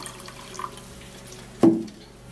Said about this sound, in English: Now I would love to put a little more water,